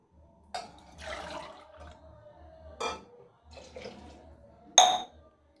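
Water is poured from a glass into a pot of rice mixed with vegetables and masala for mushroom biryani, heard as a few separate splashing pours with quiet gaps and a final clink of the vessel.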